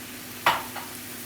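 Ground beef browning in a pan gives one short stirring scrape with a burst of sizzle, then a faint frying hiss that lingers alone.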